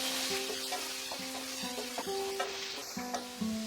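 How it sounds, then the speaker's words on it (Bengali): Potato strips frying in oil with turmeric and salt over medium heat, a continuous close sizzle with repeated tonal scrapes of a spatula stirring through the pan. "মাঝারি আঁচে আলুটাকে ভালো করে ফ্রাই করে নেব"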